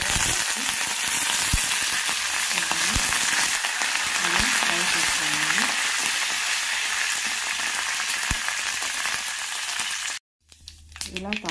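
Chana dal, urad dal and cumin sizzling in hot oil for a tempering, a loud, dense close crackle running steadily before cutting off abruptly near the end, followed by brief clatter.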